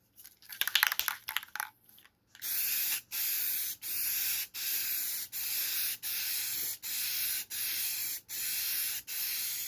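Spray gun applying claret wine paint over self-etching primer on a custom seat base: a few short hissing bursts, then a regular series of about ten loud, even sprays separated by brief pauses.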